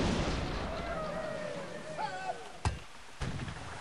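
Ship cannons in Sid Meier's Pirates fire in a few sharp, separate booms near the end, following a fading rumble, with a voice speaking now and then.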